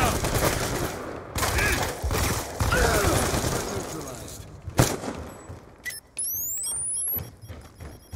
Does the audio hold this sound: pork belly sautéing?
no